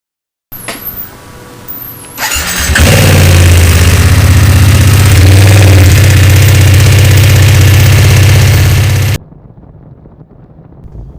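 BMW motorcycle engine under way on Highway 285 outside Denver, a loud steady drone holding through winding mountain road after a quieter start, then dropping off abruptly to faint rumble.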